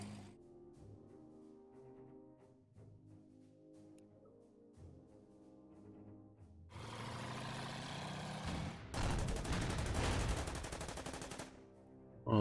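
Tanks in the strategy video game Order of Battle: Red Steel open fire on bunkers. A low engine drone runs for several seconds, then loud, sustained bursts of cannon fire and explosions erupt near the end.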